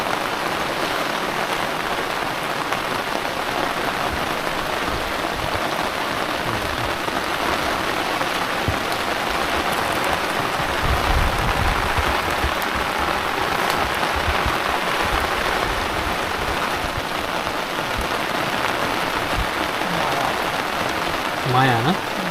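Steady rain falls and patters on surfaces beside a river during net fishing, a continuous broadband hiss that holds even from start to end with no talk over it.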